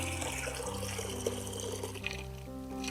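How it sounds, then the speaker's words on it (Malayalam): Water in which banana peels have soaked pours steadily from close by, a continuous splashing liquid stream running for a few seconds with a low background hum. "അപ്പോൾ ആ പഴത്തൊലിയുടെ വെള്ളം നമുക്ക് എടുക്കാം"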